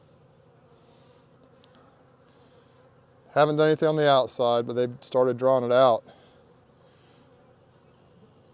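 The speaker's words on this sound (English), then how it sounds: "And look at those bees." Honey bees crawl on a frame of new foundation lifted from a crowded nuc box, giving a soft, steady hum that runs throughout while someone talks over the middle part.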